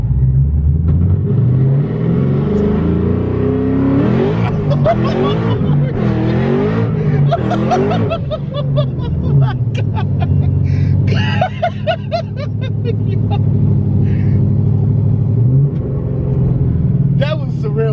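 A 1250 whp Shelby Mustang GT500 launches hard with its tyres spinning, a loud engine roar climbing and falling through repeated revs from inside the car, with excited voices talking and laughing over it throughout.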